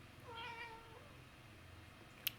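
A house cat gives one soft meow in a quiet room, faint and somewhat distant, followed by a brief small click.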